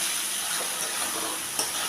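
Spice masala with a spoonful of sugar, cooking for ghugni, fries and hisses steadily in a pan, with a faint scrape of stirring and one small clink near the end.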